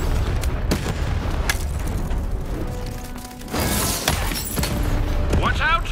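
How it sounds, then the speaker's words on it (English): Cannon fire in the video game Lost in Random lands as a few deep booms with crashing debris amid busy game sound effects and music, one heavier blast near the end. "button to fire the cannon"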